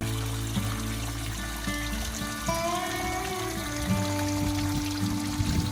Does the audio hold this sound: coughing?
no